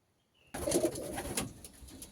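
Pigeons in a loft coo and stir, a sudden onset of low, warm cooing with faint rustling that holds steady for about a second and a half and then eases off.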